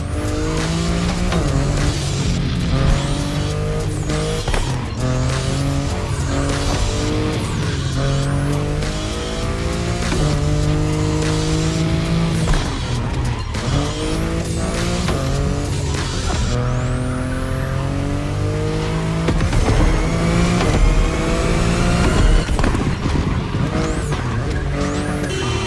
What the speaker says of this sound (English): the i8, the sports car you're driving